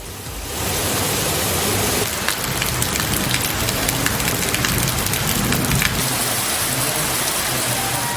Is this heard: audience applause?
no